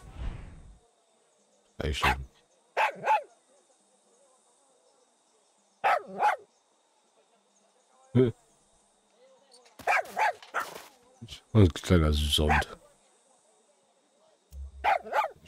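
A dog in the video game Far Cry 6 barks in short, loud bursts spaced several seconds apart, with someone briefly speaking between them.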